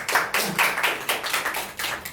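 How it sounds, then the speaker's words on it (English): Applause from a live audience at a debate on arranged versus love marriage, a short run of quick, uneven claps that swell and dip, heard alone without talk. "Please give a huge round of applause for our viewers as well."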